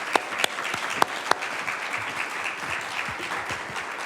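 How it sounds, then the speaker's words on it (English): An audience at a refugee film festival applauds steadily, a dense wash of clapping with a few sharp nearby claps standing out near the start. "One more round of applause, everyone."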